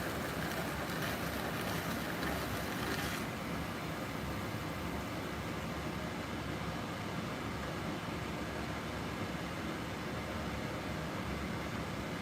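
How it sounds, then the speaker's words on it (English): A steady low roar of a running furnace fills the background in a pottery studio, faint and continuous with no talking. "Furnace is running good."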